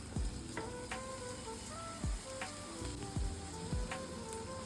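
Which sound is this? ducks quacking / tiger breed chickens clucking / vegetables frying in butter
vegetables frying in butter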